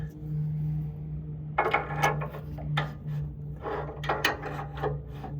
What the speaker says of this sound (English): So we're gonna loosen it. Let me use my other wrench.